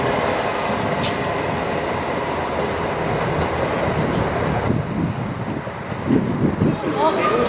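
A train heads out of Peterborough station bound for Birmingham, its loud rumble and rolling rail noise steady throughout with a swell near the end, and people talk faintly underneath.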